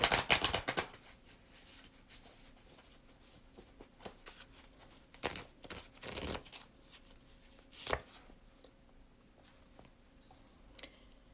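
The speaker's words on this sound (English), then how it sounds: "Last shuffle." Tarot cards are shuffled in a quiet room: several quick riffling bursts and soft flicks, with sharp card snaps near the start, the middle, and around eight seconds, separated by pauses.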